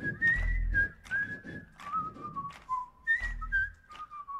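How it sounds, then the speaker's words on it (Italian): A whistled melody at a song festival performance, several clear rising and falling phrases in a rhythmic pattern, fairly loud and close, with no talking. "Fischiate, io non so fischiare."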